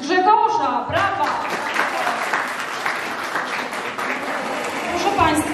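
Audience applause at a village carnival ball organized by a rural women's circle, a dense steady clapping from a sizeable crowd filling the hall, with a voice heard briefly at the start.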